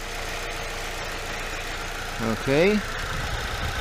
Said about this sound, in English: The engine running like not too bad.